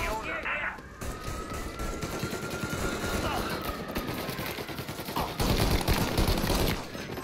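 Gunfire in the Mafia video game, a dense fusillade of shots with bursts like machine-gun fire crackling steadily through the whole stretch, louder near the end, with game voices and background noise mixed in.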